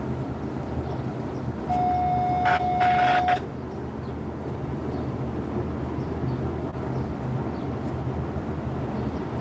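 Norfolk Southern and CSX freight trains rolling through Decatur, Alabama, a steady low rumble throughout with a brief tonal horn-like whine near the start.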